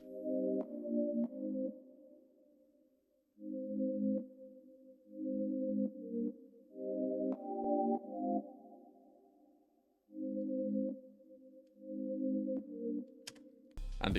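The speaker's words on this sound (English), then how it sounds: "It's this Sign Beauty, again from my Champions analog lab bank." Soft Sign Beauty synth pad chords from an analog lab bank, voiced in a lower and a higher octave with effects, swell in and fade across several sustained phrases separated by brief quiet gaps. The chords are faint and alone.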